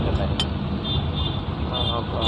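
Busy road traffic at night, a continuous wash of passing vehicle noise with a brief horn toot, heard under a person talking.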